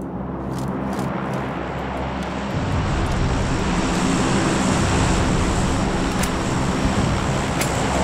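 A low, steady drone of an airplane engine in PUBG, continuous and fairly loud for several seconds, deepening partway through as it draws nearer.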